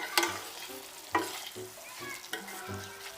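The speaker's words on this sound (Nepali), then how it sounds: "हामीले अघि फ्राई गरेर राखेको मस्यौरालाई त्यसमा हालेर मजाले मिक्स गर्छौं" Masyaura nuggets stir-fried with spice paste in hot oil in a home Nepali kitchen: a few sharp scraping stirs of the spoon against the pan over a steady, soft sizzle, with no talking.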